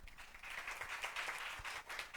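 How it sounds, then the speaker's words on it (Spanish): Faint, steady applause from a Catholic church congregation during a sermon, a soft, continuous patter of many hands heard from a distance. "Le damos un fuerte aplauso al Señor."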